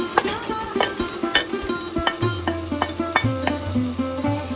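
Onions and tomatoes soften in a pan with turmeric for khichdi, a steady sizzle broken by repeated knocks and scrapes of a stirring spoon against the pot, close and fairly loud with no talking.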